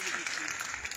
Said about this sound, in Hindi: आपकी तालियों की गूंज कुछ इतना मजा नहीं दे रही